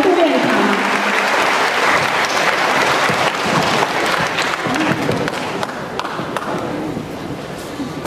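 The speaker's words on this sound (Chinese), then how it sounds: "再一次掌声鼓励哦" Sustained, dense applause from a live audience at a listener fan meetup in Taipei, loud and close, holding steady for the whole stretch with faint speech beneath the clapping.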